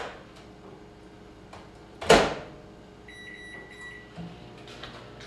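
A microwave oven melting butter for chocolate chip cookies gives a loud clunk, likely its door, then a row of faint, short, high beeps over a low background hum.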